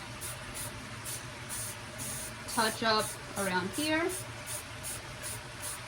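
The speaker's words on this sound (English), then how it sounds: "And then I'll start spray painting so that it drops down more." Short hissing bursts from a spray paint can pulse rhythmically in the background while a person speaks briefly over them.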